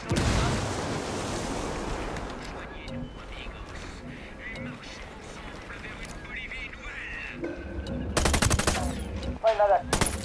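Loud, rapid automatic gunfire fills a firefight in the tactical shooter Ghost Recon Wildlands, with continuous dense bursts of shots. Radio-style voices are mixed under the gunfire, and sharper blasts come near the end.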